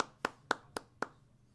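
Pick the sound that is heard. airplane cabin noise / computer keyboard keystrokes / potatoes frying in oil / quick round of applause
quick round of applause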